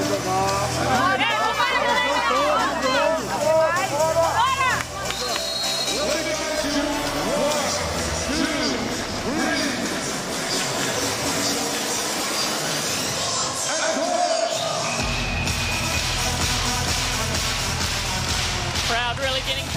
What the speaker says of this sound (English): Crowd really getting pumped up here now. It is loud in this stadium.